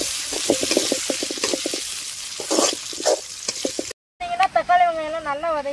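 Tomatoes drop into onions frying in a pot in a mud-hut kitchen, giving a close, crackling sizzle with stirring clatter for about four seconds, then a brief cut and someone talking.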